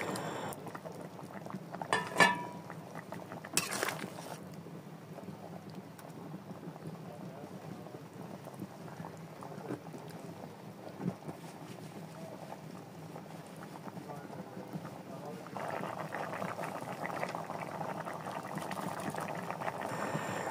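Water simmering in a pan for pangas fish curry, a low steady bubbling hiss throughout with a couple of brief knocks early on and the bubbling growing a little busier toward the end.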